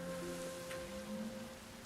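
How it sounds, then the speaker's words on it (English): Soft, steady rainfall in the video game Sky: Children of the Light, a gentle continuous patter at low volume under faint sustained musical tones. "entering into the rain does knock you down a bit"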